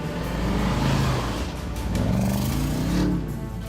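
An Audi RSQ8 or Porsche Cayenne Turbo Hybrid engine drones steadily as the SUV drives off-road through sand on 23-inch wheels, a loud close hum with slight rises in pitch, heard alone.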